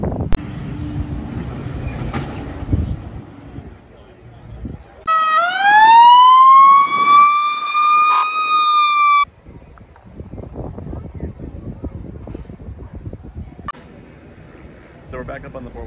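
A loud siren from Scotch Plains' new fire engine wails for a few seconds, rising in pitch and holding, between stretches of outdoor noise and talking at a firemen's convention in Wildwood, New Jersey.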